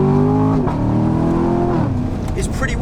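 A C7 Corvette Stingray's engine accelerates hard on twisty, bumpy canyon roads, a loud rising rev that drops at a gear change and climbs again, close and dominant with faint higher noises near the end.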